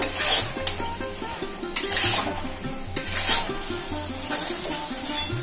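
Jujubes with turmeric being stir-fried in a pan for pickle, a spatula scraping and knocking against the metal in an uneven rhythm of repeated strokes, close and fairly loud, with no voices.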